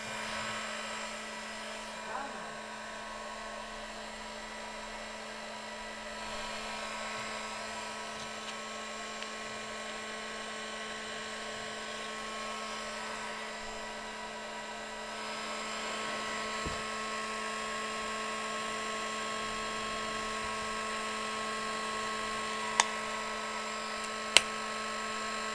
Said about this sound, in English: it's focusing on the heat gun